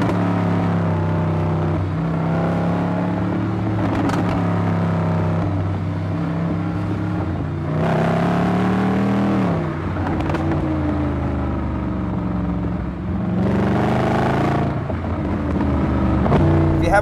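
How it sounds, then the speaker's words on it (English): A 2010 Mercedes-Benz AMG SLS is driven on a twisty road, its engine a steady, loud drone heard from inside that rises and falls as it shifts, with wind noise and occasional talk over it. "I'm driving the 2010 AMG SLS made by Mercedes-Benz"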